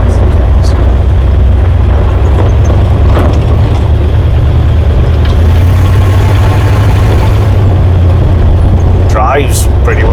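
A 1969 Jeep Gladiator pickup, revived after 20 years abandoned, driving along with a loud, constant low engine rumble close up and rattling mechanical noise, while a voice talks over it.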